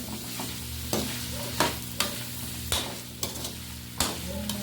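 Pork adobo with potatoes is stirred in a pan with a spoon, giving a series of about seven distinct scraping strokes at an irregular, unhurried pace over a steady low sizzle, close and clear, with no talking.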